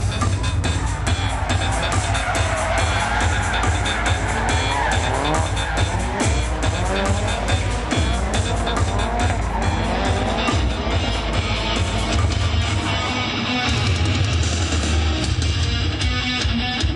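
Drift cars battle at the Drift Turbo Paris tuning show, engines roaring loud and continuous while tires squeal and skid in long overlapping smears, a crowd and announcer faintly underneath.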